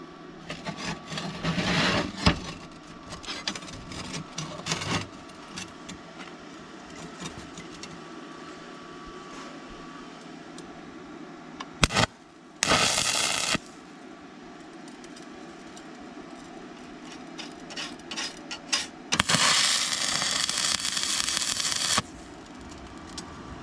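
Stick arc welding with a 6010 electrode at around 90 amps gives several bursts of loud, harsh crackling and sizzling, separated by quieter pauses.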